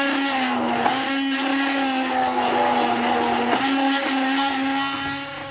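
An electric mixer grinder blending chutney whirs loudly and steadily at a constant pitch, with a few brief bumps as contents shift inside, running without talk.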